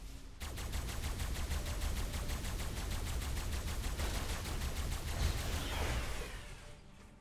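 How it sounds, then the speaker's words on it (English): Sustained rapid gunfire in the Ark Primal Fear game, a steady, evenly pulsed stream of shots lasting several seconds at moderate volume before cutting off. "I'm still shooting apparently."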